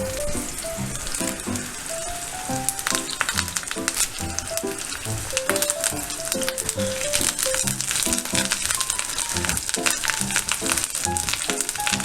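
Curry leaves crackle and sizzle sharply in hot oil, a loud busy spatter of pops over a constant hiss, with spoon scrapes.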